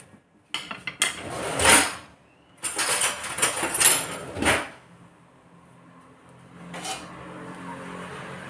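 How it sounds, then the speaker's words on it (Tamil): Curry leaves dry-roasting in a pan give off dry rustling crackles, with scraping and stirring clatter coming in loud bursts, then easing into a faint sizzle with one last scrape. "இந்த சட்டியில் ஒரு மாதிரி சல சத்தங்க இருக்குது பார்த்தீங்களா?"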